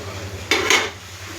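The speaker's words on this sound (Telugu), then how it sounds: "ఇవి డాకలో వేసేస్తున్నాను" Cut okra tumbling into a metal cooking pot, heard as a quick clattering double knock, close and fairly loud against a quiet background hum.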